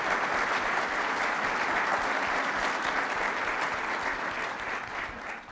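Audience applause at a Champaign Chamber of Commerce event, 2014 Illinois Chamber of the Year, a steady, dense clapping from a large indoor crowd that holds loud throughout and tapers slightly at the end.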